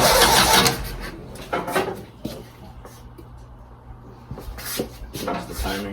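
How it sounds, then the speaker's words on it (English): A 1952 CJ5 Jeep engine is cranked in several short, uneven attempts, close and fairly loud. Quieter gaps fall between the bursts, and faint background clatter can be heard. "I'm gonna crank her up. I'm trying to start this thing."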